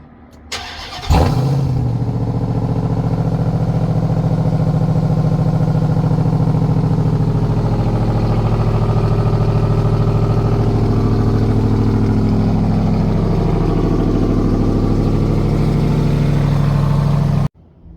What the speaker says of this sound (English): let's give it a cold start on the stock exhaust system right now